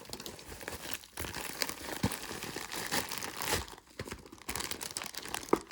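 A plastic bag crinkles and rustles in bursts with short pauses as an eBay package holding jewelry is unboxed, the crackling close and uneven.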